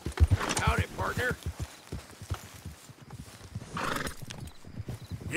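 Horse hooves clip-clopping at a brisk pace with a neigh in Red Dead Redemption II, rhythmic thuds close by, with a voice speaking over the hoofbeats.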